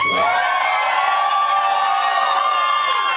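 A crowd at a Michael Jackson dance contest cheers and whoops loudly for a contestant, a dense sustained roar of shouting voices held for several seconds.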